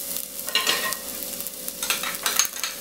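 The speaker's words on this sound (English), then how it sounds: "I'm going to saute my onions." Onions sauté in olive oil, a close crackling sizzle that rises in bursts as they are stirred and settles between, with a faint steady hum underneath and no talking.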